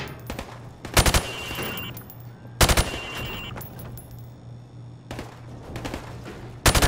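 Rifle fired from the hip on a training range in Call of Duty: Modern Warfare Remastered on Xbox Series S: four loud, close bursts of rapid automatic fire spaced a couple of seconds apart over a low hum.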